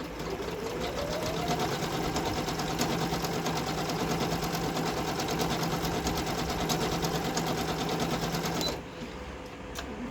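A Singer Monami Nu Plus SC207 sewing machine stitching embroidery, a fast steady mechanical whir with rapid needle clatter running continuously for about nine seconds before it abruptly drops off.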